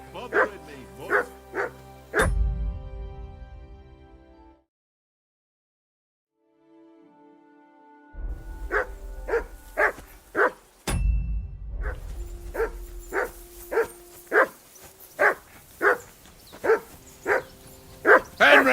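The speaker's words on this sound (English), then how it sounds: "Call that dog to heel." A dog in the video game Peasant Simulator barks repeatedly in a regular, evenly spaced series, close and loud, with a pause midway and some talking mixed in.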